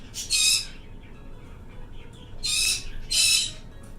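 A pet bird gives three loud, close squawks in short bursts, with quiet pauses between them and no talking.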